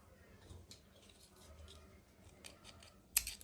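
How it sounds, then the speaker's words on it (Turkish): Scissors snip through yarn during crochet work on a hair clip, a single faint sharp cut near the end of an otherwise quiet stretch of soft handling noise. "İpimi kestim."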